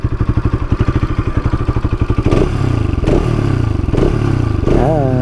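A Bajaj Pulsar NS200 motorcycle, just back after an ECU fix, idles close by with a rapid, loud, even exhaust putter, then blips the throttle a few times into short revs before settling back.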